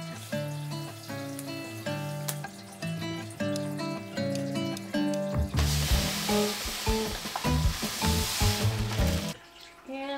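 Gravel and sand pour into a shrimp tank, producing a steady rushing, sizzling hiss over the back half, loud and close, after a stretch of tonal background sound.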